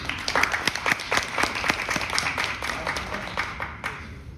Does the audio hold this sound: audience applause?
yes